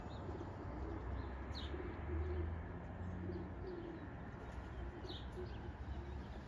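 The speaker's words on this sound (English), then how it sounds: "That's a good amount of birds," Pigeons from a flock kept for distance flying coo in soft, low repeated phrases against a constant outdoor rumble, with a few faint higher chirps scattered over it.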